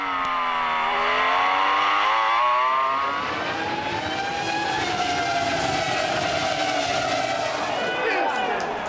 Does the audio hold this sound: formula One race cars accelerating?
yes